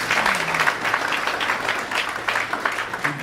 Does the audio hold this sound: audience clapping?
yes